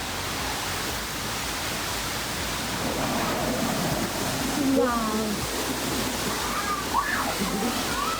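Water flowing and rushing along a path near the Annavaram temple makes a steady broadband wash, fairly loud and close, with voices talking over it.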